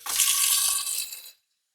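Tap water runs into a filtered water fountain's reservoir in a sink with a bright, close splashing rush that stops abruptly after just over a second.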